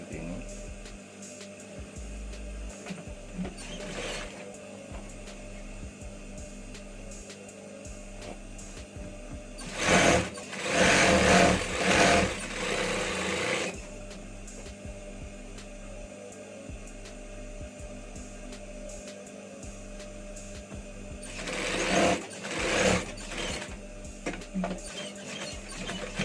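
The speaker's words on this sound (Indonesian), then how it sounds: "Yang sebelah kiri kita jahit, cara menjahitnya berbeda ya." Sewing machine stitching the left side of a hidden button placket on a garment, two bursts of steady mechanical whirring, each lasting a few seconds, separated by quieter handling noise and faint fabric rustling.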